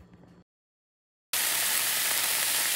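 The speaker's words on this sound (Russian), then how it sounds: "Сейчас поджарю сыр и покажу вам." Cheese dropped onto a preheated frying pan bursts into a loud, steady sizzle that holds to the end, following a short voice and a moment of silence.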